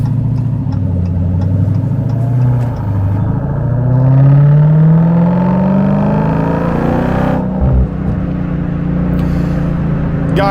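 A 717-horsepower Dodge Challenger Hellcat Jailbreak revs and accelerates hard, the loud deep engine note climbing steadily in pitch before a gear change, heard close from inside the car.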